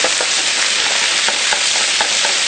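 Italian sausage sizzles loudly and continuously in a hot saute pan, a dense frying hiss close up with faint rhythmic scraping of stirring, no voices.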